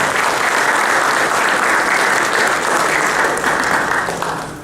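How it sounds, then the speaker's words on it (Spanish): A large audience gives a strong, sustained round of applause to welcome a guest speaker on occupational safety and health at a seminar, loud and dense throughout and tapering slightly at the end. "Muy bien, lo recibimos con un fuerte aplauso."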